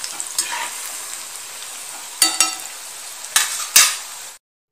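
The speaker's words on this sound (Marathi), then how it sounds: "कमी आचेवरच तळून घ्यायच्या भजी।" Onion bhaji fry in oil over low heat, giving a soft, steady background sizzle. Several sharp clinks and scrapes of a utensil against the pan break in near the end before the sound cuts off abruptly.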